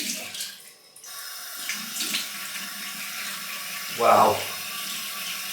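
Cold water runs from a bathroom tap into a sink during a wet shave, a steady, fairly close splashing flow with a brief louder gush near the end, and a voice heard faintly over it.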